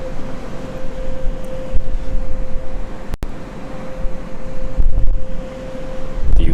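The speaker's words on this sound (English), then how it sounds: "Do you hear the wind?" Wind buffets the microphone outdoors in Monkton, Scotland, with a loud continuous low rumble and gusty swells, alone with no voices.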